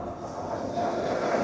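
A two-coach Sri Lankan rail bus pulls away from Nagollagama railway station, its steady rumbling roll swelling slightly louder as it gets moving, close by and without talk.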